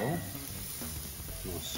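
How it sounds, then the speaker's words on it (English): Lamb rump steaks sizzle on a Kamado Joe Classic 2 charcoal grill over banked coals, giving a steady, close hiss throughout a short moment. "Nice sizzle."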